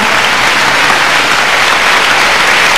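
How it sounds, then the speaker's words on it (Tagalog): A crowd at a worship gathering in an outdoor prayer garden applauds in a loud, dense, steady roar of clapping that carries through the whole moment without a break. "Pwede mo ba dito sa prayer garden ang karapat-dapat na palakpak"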